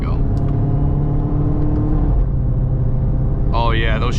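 Up close, a Dodge Charger Hellcat accelerates hard in track mode with a loud, deep engine roar that steps through gear shifts, and a rising supercharger whine breaks out near the end.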